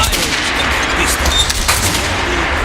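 Gunfire rings out in the post-apocalyptic shooter Metro Last Light, a dense, continuous volley of sharp cracks and booms, loud and close, under a noisy rumbling wash with no clear talk.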